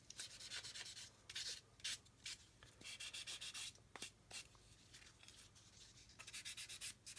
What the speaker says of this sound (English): This is an 800 sponge. Go around, just clean up all the areas where I've sanded.